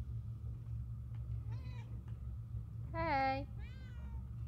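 A cat meows in the Murdered: Soul Suspect video game, a few short, clear mewing calls with one longer, louder meow near the end, over a low rumbling background and a brief spoken word.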